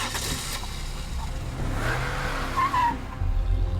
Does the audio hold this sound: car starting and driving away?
yes